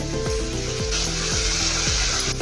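Masala frying in oil in a pan with crushed kasuri methi added, stirred with a spoon for cabbage sabzi; a steady loud sizzle runs throughout, with several rhythmic scraping strokes of the spoon.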